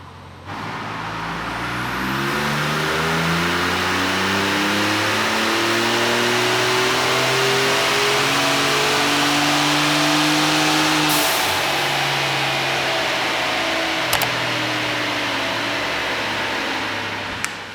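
A 2020 Ford Raptor pickup revs hard on a dyno, its engine note climbing steadily through a long, loud pull, then easing off briefly and climbing again before settling, with no talk over it.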